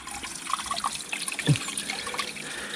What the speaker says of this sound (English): Right, pour some more water